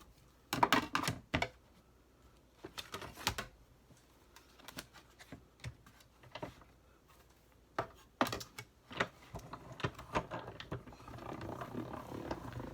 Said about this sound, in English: we're going to run it through the Big Shot